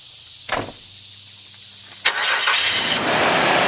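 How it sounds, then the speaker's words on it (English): A donor car with a good battery cranks at about two seconds and catches, settling into a steady engine run that fills the rest of the stretch; a faint click is heard earlier, with no talk. "I'm going to go ahead and start my vehicle that does have a good battery"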